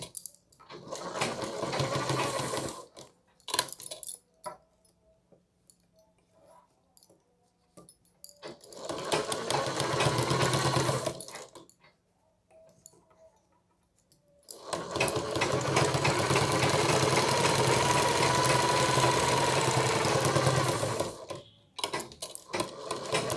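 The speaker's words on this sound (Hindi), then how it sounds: "अब इस पे हम एक चाप सिलाई डालेंगे, जो कि ये मोटा उली कपड़ा है इसीलिए इसे चाप स्टिच दे के बैठाना ही पड़ता है।" An electric sewing machine stitches thick woolen fabric for a blouse collar, running in three distinct whirring bursts, the last one longest, separated by near-silent pauses; close and steady.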